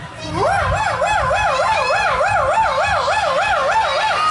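A loud, rapidly warbling police siren wails continuously up close, its pitch sweeping up and down in a fast regular cycle.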